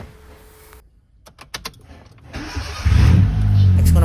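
A car engine cranking and catching after a radiator replacement: a few sharp starter clicks and whirs, then the engine fires into a loud, steady idle rumble close by.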